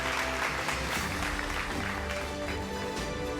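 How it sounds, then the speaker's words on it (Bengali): An audience at an awards ceremony applauds loudly and continuously as an eminent sports journalist is invited onto the stage. The dense clapping stays steady throughout, with a faint murmur of the crowd underneath. "তো জোরে হাততালি হয়ে যাক।"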